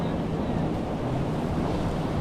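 Ocean waves and wind at sea, a dense, steady roar of surf and gusting air filling the whole moment with no clear breaks.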